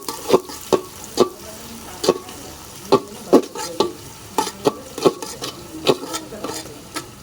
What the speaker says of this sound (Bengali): এবার পেঁয়াজ লঙ্কাটা ভালো করে ভেজে নেব।